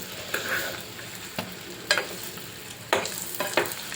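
Eggs sizzle and fry in a pan for a spicy green-chilli egg gravy curry, with a steady close crackle and several sharp scrapes and clinks as they are stirred and turned.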